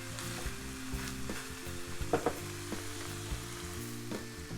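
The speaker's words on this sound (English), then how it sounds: "We're gonna give that a little stir" Egg roll in a bowl fries in a pan, a steady sizzle broken by several scraping stirs of a utensil, with a low tonal hum running underneath and no talking.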